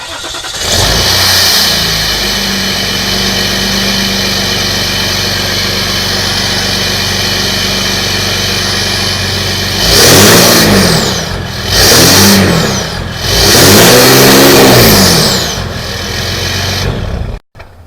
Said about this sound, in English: we're going to have our assistant start the truck up so you can actually hear it